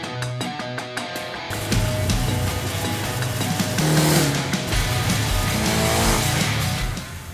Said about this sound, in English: This is a Kawasaki 1973 900cc four-cylinder.